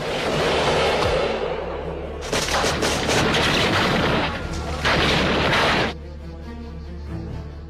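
Sniper rifle fire in a war film rings out as loud, booming blasts in blocks of heavy, sustained noise before cutting abruptly to a quieter ambient scene.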